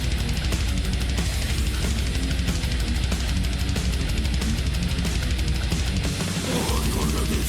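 Death thrash metal band playing at full tilt, with dense distorted guitars, pounding drums and cymbals in a continuous wall of sound.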